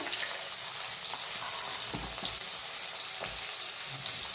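Chopped onion and cumin seeds fry in hot oil for a rustic village cluster-bean curry, a steady close sizzle broken by a few soft stirring knocks.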